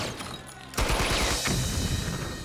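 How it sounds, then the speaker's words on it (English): Real guns firing blanks on a film set, a brief rapid burst of loud, close gunfire that breaks in suddenly after a quieter start and is followed by a rumbling, echoing tail. "We restrict them to fire only blanks."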